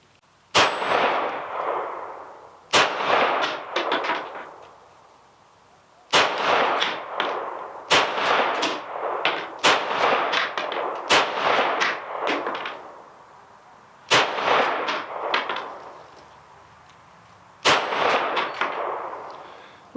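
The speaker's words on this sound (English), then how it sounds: "Alright, first shots with the red dot." Canik TP9SFx full-size pistol fitted with a red dot sight fires at a range, about eleven sharp shots in loose groups with ringing decays and short gaps between, close and loud with no talk.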